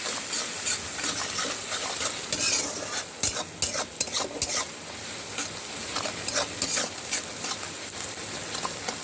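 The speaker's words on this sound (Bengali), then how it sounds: "এবার পেঁয়াজটা আমি লাল করে ভাজবো।" Onions fry in a pan until browned for a fish dish, with a loud, continuous sizzle and frequent scraping, clattering stirs of a spatula against the pan throughout.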